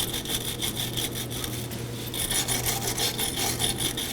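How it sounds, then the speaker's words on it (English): A wire brush scrubs the mating surface of a brake wheel cylinder on a 2013-2019 Nissan Sentra, giving a steady, rapid, rhythmic rasping of bristles on metal, close and alone. "I'll be using a wire brush."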